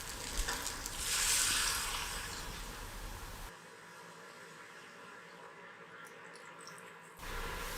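A soft rushing, hissing pour of about 2.5 cups of water into a soup pot, steady for a few seconds and then settling into a quieter, faint trickle.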